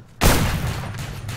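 A single loud gunshot in the S.T.A.L.K.E.R. Another Zone mod, a sudden close blast with a long decaying rumble and faint follow-up pops, no talking.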